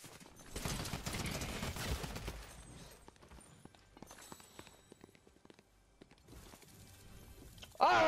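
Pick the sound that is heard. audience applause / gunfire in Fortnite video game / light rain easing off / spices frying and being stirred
gunfire in Fortnite video game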